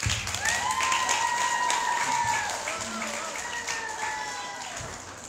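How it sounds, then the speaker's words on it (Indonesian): A crowd claps at a closing ceremony for a waste-processing program at an Indonesian Islamic boarding school dormitory, a moderate wash of applause with a few cheers that slowly tapers off. "Tepuk tangan dulu dong."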